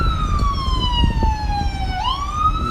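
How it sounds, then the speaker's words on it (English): An ambulance siren wails close by on a street, its tone sliding steadily downward as it passes and then swinging back up, loud over low road rumble. "No, that's an ambulance."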